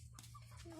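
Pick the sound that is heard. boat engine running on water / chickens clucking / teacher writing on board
chickens clucking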